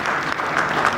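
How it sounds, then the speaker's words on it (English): An audience at a startup networking event on finding co-founders claps in a dense, steady burst of applause, close and loud for a second. "So a big round of applause for our wonderful audience."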